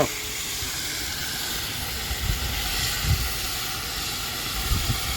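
Chicken sizzles with salt in a hot pan while being stirred, making a steady close hiss with a few soft scraping bumps and no talking.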